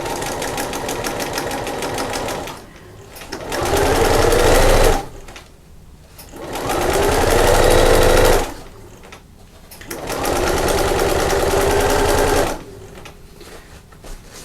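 Sewing machine stitching the side seams of a spring bag at a 3/8 inch seam allowance: three loud, close bursts of rapid whirring, each lasting a few seconds, separated by short quiet pauses.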